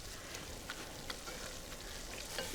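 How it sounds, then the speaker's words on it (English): Onions in a hot pan sizzle and hiss steadily after vinegar is poured in to deglaze, a faint, even frying noise with scattered small pops and no voices. "I love the vinegar when it hits the hot pan."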